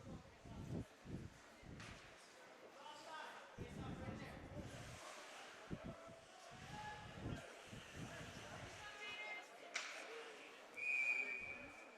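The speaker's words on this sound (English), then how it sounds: "Now whistle is blown, I believe, for a delayed offside." A referee's whistle blows briefly and faintly near the end, over arena crowd noise and thumps of play at a high school ice hockey game between the ELHS Spartans and Hopedale.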